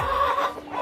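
A brooding hen gives low, throaty clucks in a short murmuring run, close by and steady, with no other sounds around it.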